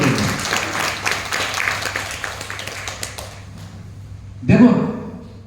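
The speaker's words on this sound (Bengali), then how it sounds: "একটা হাততালি হবে কাজল বাবুর জন্য" Audience applause for Kajal babu at a Feonna Herbal achievement program in Digha, a dense patter of clapping from a gathered group that fades out, followed by a short loud thump.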